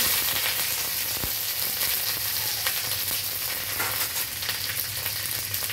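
Dried red chili and curry leaves fry in hot oil in a pan, giving a continuous, dense, close crackling sizzle with a couple of faint clicks.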